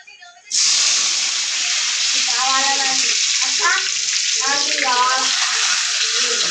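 Tomatoes dropped into a hot pan for tomato rice set off a loud, steady sizzle that begins abruptly, with stirring scrapes breaking in over the frying hiss.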